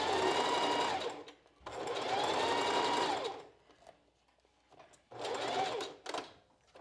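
Sewing machine stitching bra lining to foam cups on a strapless bra, running in three steady whirring bursts separated by short pauses, close and clear.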